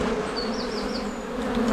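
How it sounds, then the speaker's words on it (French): A dense, droning buzz of many honeybees swarming close by as they leave with the queen, steady and loud throughout the short moment. "ça va être le moment où les abeilles vont partir avec la reine"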